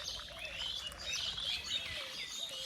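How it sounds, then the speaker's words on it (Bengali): Birds chirp and tweet continuously on a village morning, a steady chorus of thin, high calls with no voices. "তোমরা শুনতে পাচ্ছ গাইস পাখিরা কিচিরমিচির করছে"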